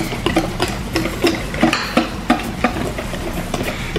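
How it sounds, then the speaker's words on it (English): Pancake mix whisked in a bowl, a close, steady series of quick rhythmic taps and scrapes as the whisk strikes the bowl's sides, heard alone over a low background hum. "I'm gonna get my whisk, my handy dandy whisk, and I'm gonna stir that up."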